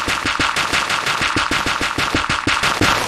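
Dirt being mined rapidly with a multi-tool in Minecraft, heard as fast, evenly spaced block-breaking crunches in a continuous loud rattling stream, close and with no talking.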